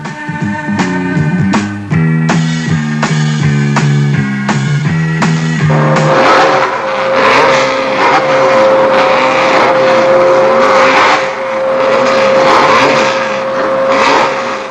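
Formule France single-seater race cars at the Le Castellet circuit rev loudly with stepped engine notes, then give way to a sustained roaring blur of passing cars in an archive recording.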